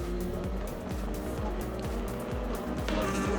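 Race cars pass one after another around the Imola circuit, with repeated loud engine sweeps rising and falling in pitch, several overlapping passes close by over a steady roar.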